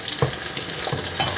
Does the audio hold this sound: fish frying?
yes